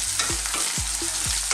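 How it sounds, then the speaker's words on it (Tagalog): Garlic frying in a pan for beef salpicao while being stirred, a continuous hiss of oil broken by several rhythmic scraping strokes of a spatula across the pan. "Lutuin na po natin ang ating bawang."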